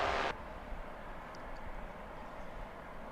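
A jet airliner at DFW International Airport gives a distant, even roar, a broad steady rush that runs throughout after a short bright burst at the start.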